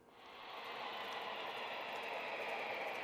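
Model trains run on a large miniature layout at Miniature Wonderland, heard as a faint, steady, distant rumble and hiss that rises slightly and then holds even.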